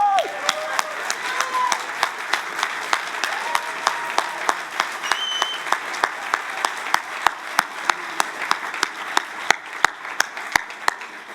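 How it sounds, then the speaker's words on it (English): An audience at a conference applauds the event's technician, a spread of clapping with sharp rhythmic claps rising above it in a steady beat, while faint voices call out briefly. "Please give a big applause for Loïc."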